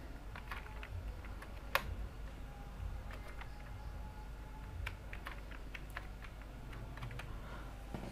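Typing on a computer keyboard while building a live football match website in Google Sites, quiet irregular key clicks in short bursts against a faint background hum, no talking.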